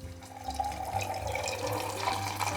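Browned butter poured straight into a batter, a close, continuous liquid trickle with faint splashy texture running steadily from start to finish, no voices.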